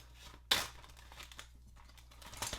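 Quiet crinkling of a plastic bag, a sharp crackle followed by softer rustles and a few more crinkles near the end.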